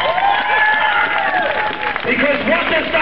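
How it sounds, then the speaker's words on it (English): Crowd applause at a rally in solidarity with Gaza and Palestine, a steady roar of clapping and some cheering from many people, loud and continuous, with voices mixed in. "Give them a round of applause."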